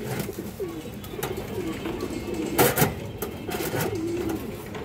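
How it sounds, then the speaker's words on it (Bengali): High-flying pigeons kept at a pigeon farm coo in low, rolling calls over a dense, steady background of flock noise, with a few sharp clicks and rustles breaking through midway. "দর্শক, এই যে কবুতরগুলো দেখেন"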